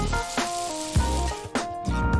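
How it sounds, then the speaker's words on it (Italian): Food sizzles in a hot frying pan, a bright, steady crackle with short louder bursts as it cooks, close and alone. "Senti questo sfrigolio?"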